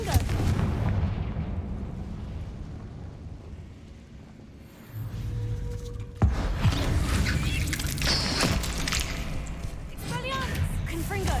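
Expelliarmus and Confringo spells fire in the Hogwarts Legacy video game, landing as dense booming blasts and explosive impacts. A sharp crack comes partway through, and the rumbling combat noise runs continuously throughout.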